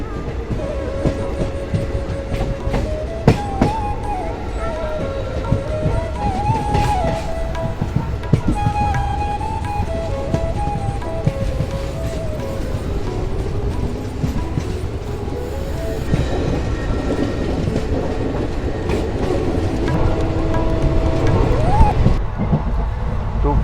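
Inside a moving passenger train in Rajasthan, near Phalodi on a cold day, wheels keep up a continuous clickety-clack with occasional squeals and rattles. People talk and whistle faintly over the rolling noise.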